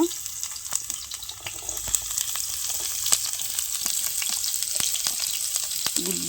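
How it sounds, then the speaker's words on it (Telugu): Onions frying in well-heated oil in a pan for a village-style egg roast chapati, a steady close sizzle and hiss with scattered sharp crackles and pops. "నూనె అయితే బాగా కాగిపోయిందండి పెండ మీద అయితే ఫస్ట్ ఉల్లిపాయలు వేసుకోవాలన్నమాట"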